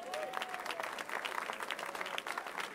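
A church congregation applauds continuously, a dense wash of many hands clapping in a large room, steady and fairly loud throughout.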